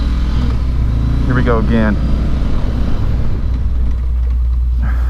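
A 2019 Honda CB500X motorcycle riding along, its engine a steady low rumble close to the microphone, with someone speaking over it throughout.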